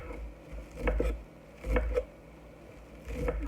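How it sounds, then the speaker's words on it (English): Parsley is roughly chopped with a knife, heard as three quiet bursts of soft knife strikes against a board, evenly spaced with pauses between. "we chop our parsley."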